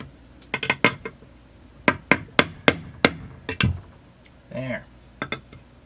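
A hammer taps a deep socket to drive a bushing into a Stihl MS440 chainsaw crankcase, giving a series of sharp metallic knocks in quick bursts with brief pauses, close and clear.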